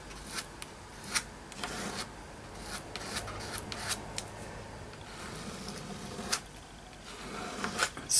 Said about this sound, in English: Scrape the excess off